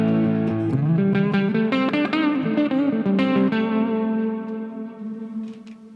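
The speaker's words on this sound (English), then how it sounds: "Let's add a bit of drive." An electric guitar played through the overdrive of a Line 6 POD Go multi-effects unit rings out with gritty, distorted notes and chords, then sustains and fades.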